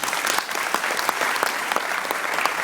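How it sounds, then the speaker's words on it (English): Steady, even applause from an audience at a banking association induction ceremony, sustained and moderately loud with no talk over it. "Please join me in giving them a round of applause."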